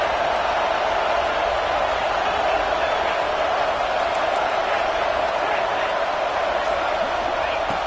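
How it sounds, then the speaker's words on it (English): Football stadium crowd roaring steadily during a red zone defensive stand in an NCAA game, a dense, sustained wall of cheering noise that holds at full strength throughout without pause. "This crowd is trying to inspire this defense to make a big red zone stop."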